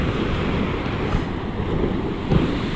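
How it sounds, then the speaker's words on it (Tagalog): Strong sea waves washing against a rocky island shore, a steady loud roar of surf with a gust-like swell near the end, heavy wind buffeting the microphone throughout. "grabe, nalakas ng alon, no?"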